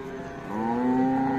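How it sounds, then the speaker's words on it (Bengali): Cattle at a rural livestock market where cows and calves are bought and sold, one cow giving a long rising moo close by against quiet market background. "গাভী বাছুর যেখানে কেনা বেচা হচ্ছে সে জায়গায় রয়েছি"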